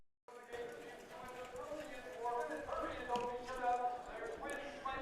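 Hoofbeats of two-year-old harness racing horses trotting at a county fair track, a steady clip-clop carried under the continuous, echoing voice of an announcer.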